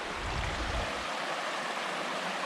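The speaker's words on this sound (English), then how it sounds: "Down here in this direction is another awesome little waterfall" Small waterfall in Lepper Brook, a constant close hiss of splashing water with a low rumble that drops away after the first second, no voices.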